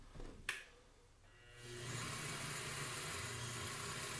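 A wood lathe turning a jam chuck for a fishing rod handle spins up after a sharp click, settling into a steady, moderately loud motor hum that runs on without talk.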